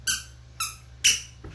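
Squeaky shoes squeak like a dog's squeak toy with each step, three loud high squeaks in quick rhythm followed by a soft thump.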